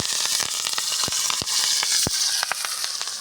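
Mustard seeds, asafoetida and curry leaves sizzle loudly in hot oil for a tempering, a steady hiss of frying broken by sharp crackles and pops as the seeds burst, close up, with no talking.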